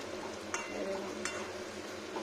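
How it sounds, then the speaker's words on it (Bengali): Hot oil sizzles softly in a pan as vegetables and coriander fry, a quiet continuous crackle broken by a couple of brief clinks from a utensil stirring. "দেখুন, এটা কি সুন্দর একটা সুই সুই আওয়াজ আসছে"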